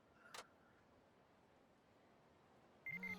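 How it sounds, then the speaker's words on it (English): A short electronic beep early on, then quiet, then a bright, repeating synthetic ringtone melody starting near the end, clear and close. "that my ringtone? That's a weird ringtone."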